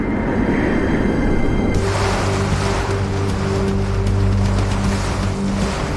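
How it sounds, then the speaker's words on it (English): Hurricane Katrina's winds and rain roar in a steady, loud, broadband wash, with no voices and no break. "Katrina's winds tear at the roof as she rips away 15-foot-long sections"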